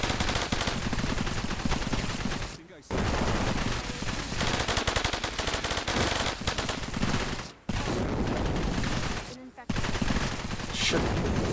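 Gunfire while moving in the video game Cepheus Protocol, near-continuous rapid automatic bursts, loud and dense, broken by a few brief pauses.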